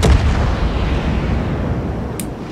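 Booming naval 6-inch gun fire in the video game World of Warships, a loud blast at the start rolling into a long rumbling echo that slowly fades, with a brief sharp tick near the end.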